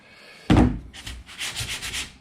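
A sharp knock opens, then a sanding block scrapes back and forth across the metal body of a Sunbeam Rapier car in several rhythmic, gritty strokes, close and fairly quiet.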